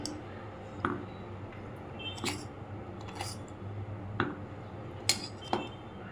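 A small spoon clinks lightly against a dish while powdered sugar is scooped in for instant modak, making a few faint, sparse metallic taps over a quiet kitchen background.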